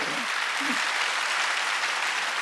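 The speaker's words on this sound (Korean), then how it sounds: "박수 치려면 세게 치고." A church congregation at a Sunday worship service claps loudly in a steady, dense wash of applause, with a brief voice at the start before the clapping continues alone.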